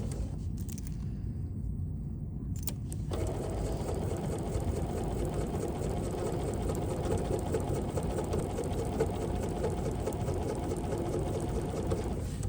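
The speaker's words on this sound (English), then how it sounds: "we're going to stitch, leaving 3/4 of an inch at the beginning, back up, and move forward" A sewing machine runs steadily while stitching a Kaffe Fassett zippy circular bag, starting with a brief stop-start and then humming continuously at close range with no voices.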